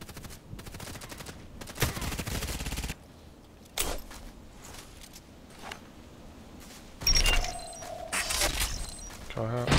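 Sniper rifle fire from the AIAWMF in Contract Wars: several sharp, loud cracks and bursts of gunfire scattered through the clip amid game noise and voice chatter.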